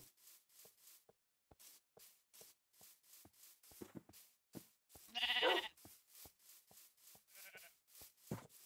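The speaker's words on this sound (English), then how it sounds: "Sheep." Sheep bleating in the Minecraft video game, a burst of loud, close bleats rising out of a steady run of quieter game sounds, heard alone with no one talking.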